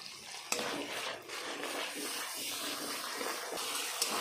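Water pours into a pan for a mustard hilsa curry, a soft steady gushing stream at low volume with a couple of faint knocks.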